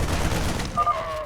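Cannon fire rattles in a StarCraft II battle, a short burst of rapid booming shots followed by a faint electronic whine.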